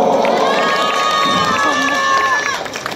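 A crowd at a Ganesh Puja celebration cheers and shouts, with high excited voices, some clapping mixed in, a loud dense continuous roar that fades slightly at the end.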